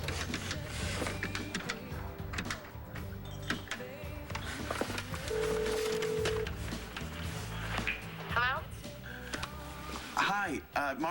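Number being dialed on a street payphone, a string of short electronic keypad tones and mechanical clicks heard nearby, with voices talking over the tones.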